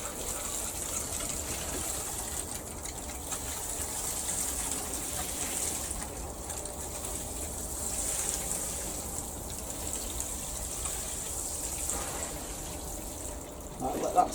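Water pours steadily from a can over a plant on an allotment plot in March, a continuous soft gush and trickle held close to the microphone with little change in level.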